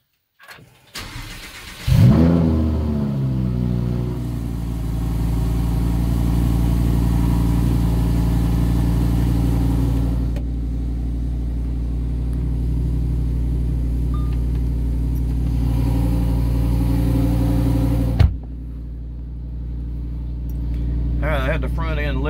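A Lamborghini Huracan EVO fires up with a sharp loud start and rev, then settles into a steady, deep, close idle rumble that lasts until a brief blip near the end, followed by quieter mechanical sounds.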